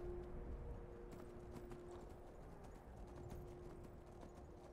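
Horse hooves clip-clopping in a steady rhythm as a horse is ridden down a mountain in a video game, fairly quiet and continuous over a soft low background, with no talking.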